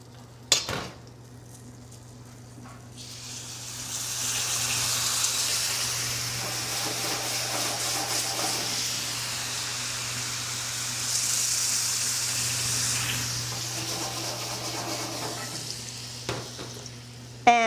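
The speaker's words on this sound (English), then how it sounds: "I'm going to add the water." Water hits a hot pot of lentils for mujadara, a sharp clatter followed by a long loud sizzling hiss that swells, eases and swells again before a final clank of a pot or utensil.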